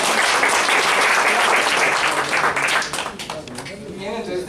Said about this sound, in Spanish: Un aplauso para Nelly